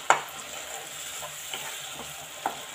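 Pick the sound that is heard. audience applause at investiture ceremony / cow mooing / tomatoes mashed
tomatoes mashed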